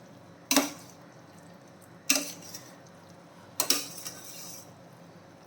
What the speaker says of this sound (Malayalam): ഇതെല്ലാം കൂടെ നമുക്കൊന്ന് ഇളക്കി കൊടുക്കാം